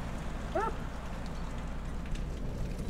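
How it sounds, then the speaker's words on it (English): Steady rain pouring off an awning outside a door during a thunderstorm, a continuous close hiss and splatter with no talk over it. "You can see it's raining pretty good out there. It's just Running off the down awning."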